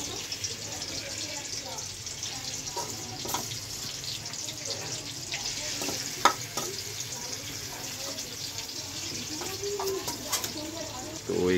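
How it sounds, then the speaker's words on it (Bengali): Prawns fry on a clay stove with a continuous, moderately faint crackling sizzle, joined by occasional clinks and scrapes of utensils, while people talk in the background. "তো এখানে হচ্ছে চিংড়ি মাছ ভাজা।"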